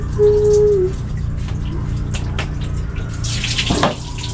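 Tap water runs steadily for washing, a close, constant broadband splash throughout, with a brief tonal squeak near the start.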